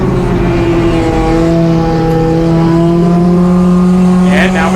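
Race cars on a NASCAR Division III enduro oval in a close three-car battle, engines roaring loud and steady with rising pitch as they pass, a sustained wall of motor noise.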